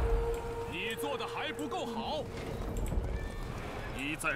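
Horse neighing and whinnying in a video game battle, several rising and falling neighs over clip-clopping hooves and clashing background noise, with a voice talking underneath.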